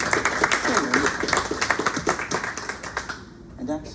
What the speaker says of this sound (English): Can we have some more applause for our first two readers?